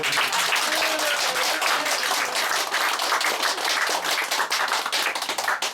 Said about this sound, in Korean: 하여튼 이순희 선생님께 다시 한 번 감사의 박수.